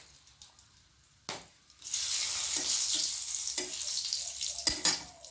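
A bay leaf, whole garam masala spices (cardamom, cloves, cinnamon) and a dried red chili drop into hot oil and start sizzling loudly. The frying hiss follows a few soft clinks and stirring sounds.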